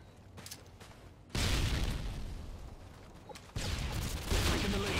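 A frag grenade and gunfire in Call of Duty: Modern Warfare 2 on the Quarry map, with a Famas rifle in play: a sudden loud blast opens into a dense, sustained rattle of shots, and a second surge of fire hits near the end.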